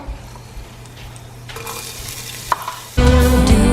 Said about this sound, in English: in my pan of warm oil, I'm going to put in my chopped up onions and garlic